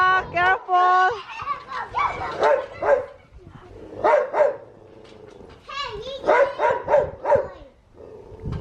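A dog barks in short bursts, several times, close by, mixed with children's voices and chatter.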